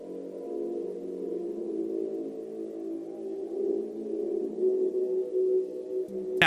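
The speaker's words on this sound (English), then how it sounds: "another sound cue will play letting us know he's arrived that sounds like this" A low, sustained droning tone with wavering, sonar-like texture swells steadily for several seconds, ending in a sharp click, an enemy arrival cue from a Five Nights at Freddy's fan game.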